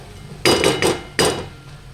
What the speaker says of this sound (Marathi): आपण त्याच्यावर झाकण ठेवूया